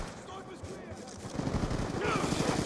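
Rapid MSMC submachine gun bursts from Call of Duty Black Ops 2 multiplayer, dense crackling fire that grows louder and busier in the second half, mixed with other game sounds.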